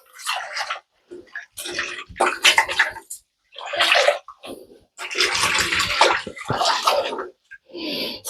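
A synthetic wig being washed in water: repeated splashing, swishing and squelching bursts of varying length, close and fairly loud, with brief silent pauses between them and no speech.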